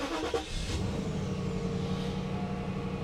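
A Mercedes E420 engine turns over and catches, settling into a steady idling rumble that runs loudly and continuously.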